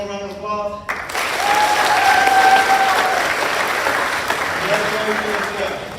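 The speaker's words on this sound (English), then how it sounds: "All right, one more round of applause." Audience applause at a high school ROTC awards ceremony, a full room clapping in a dense, sustained wash after a brief voice at the start, with a few faint whistles and crowd noise mixed in.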